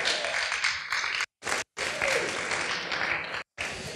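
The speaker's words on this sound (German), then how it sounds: "Einen dicken Applaus für euch selbst." Applause from the participants of a climate slam on the energy transition fills the room, loud and steady, cut by a few brief drop-outs.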